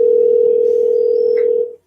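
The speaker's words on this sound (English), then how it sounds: "we're calling back Dr. Nichols" Steady telephone dial tone heard while calling a doctor back, one continuous loud tone lasting under two seconds before cutting off abruptly, with no voices over it.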